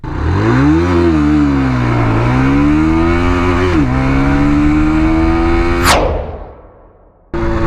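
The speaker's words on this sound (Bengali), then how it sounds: "চলেন এবার আপনাদেরকে দেখায় জিরো টু সিক্সটি কত সেকেন্ডে ওঠে" A QJ SRV 160 Xrider motorcycle accelerates hard from a standstill during a 0 to 60 test. The engine note climbs steadily through a couple of brief gear shifts, then sweeps sharply upward and fades as the bike pulls away.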